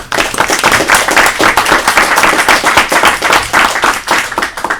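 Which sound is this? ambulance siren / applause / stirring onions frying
applause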